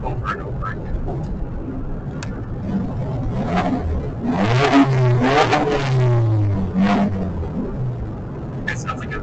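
A car's exhaust revs up in a rising, sweeping burst that peaks and falls back to idle. The rasping note sits close and loud, with people talking over it.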